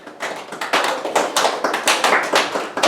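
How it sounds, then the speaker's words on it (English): An audience gives a slow clap, with a run of separate hand claps in a loose, gradually quickening rhythm, close and fairly loud. "Slow clap. Slow clap."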